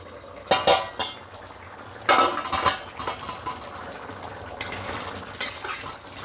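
A metal lid comes off a pot of paneer chana masala with a yogurt gravy, giving several sharp clanks and rattles of cookware spaced across a quiet kitchen, with faint bubbling between them.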